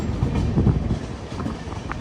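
The Vivek Express passenger train rolls into Kamakhya station with a close, steady rumble and clickety-clack that eases slightly toward the end, with no voices.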